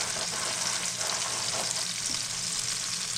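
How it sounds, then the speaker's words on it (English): Bread soaking up butter sizzles steadily in a hot pan while a cheesesteak sandwich is made, a constant bright crackling hiss with no pauses and no talk. "I'm going to toast the bread here."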